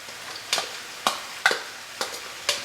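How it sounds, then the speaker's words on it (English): Italian sausage and onions browning in a pan, with a faint steady sizzle and about six sharp stirring scrapes spaced roughly half a second apart. "I'm just browning them up, and I'm adding the onions in here."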